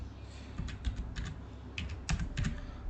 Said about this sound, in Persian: تایپ میکنیم،